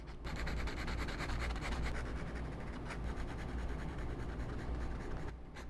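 A pencil shades a sketch on paper, close dry scratchy strokes rubbing back and forth in a continuous even texture, with no talk, pausing only briefly near the end.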